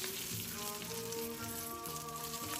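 Butter sizzling steadily in a hot pan while vegetables cook for white sauce pasta, a soft, constant crackling fry with no talk.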